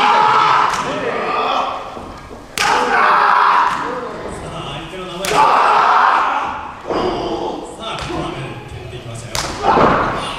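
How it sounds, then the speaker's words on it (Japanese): Loud open-hand chops land in a pro wrestling ring at a dark match, sharp slaps roughly every two to three seconds, each followed by crowd reaction and commentary voices talking throughout. "しばらくその強烈なチョップの音を聞いて"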